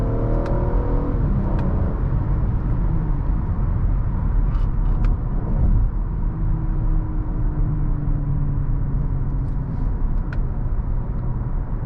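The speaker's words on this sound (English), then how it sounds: "So we're in sport mode. I'd say the downshifts respond in like half a second." Engine of a 2018 Acura TLX in sport mode heard from inside the cabin, a continuous low rumble with shifting pitch as it downshifts and revs, steady and moderately loud with no talking.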